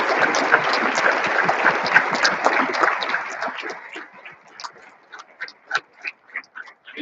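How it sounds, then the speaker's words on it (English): Crowd applause for American Legion members at a school awards convocation, a dense sustained clapping that thins out after a few seconds into scattered individual claps. "give a round of applause for all of our members of the American Legion here"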